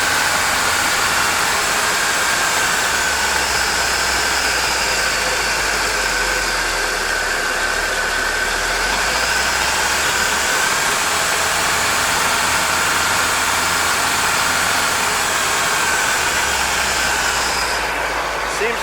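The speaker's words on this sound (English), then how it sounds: "Seems to have an idling problem going up and down, but I'm going to figure that out. But we have a running boat." Bayliner boat engine idling unsteadily after a restoration, a steady low mechanical drone with a wavering, rising and falling idle, close and continuous throughout with no talk over it.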